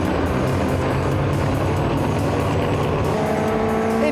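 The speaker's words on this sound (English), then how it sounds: "Into the pits comes the MG Youth Program MGA with Cameron McLeod at the wheel" An MG MGA race car drives into the pits, its engine a loud, continuous rasping drone close by, with a rising tone as it pulls in.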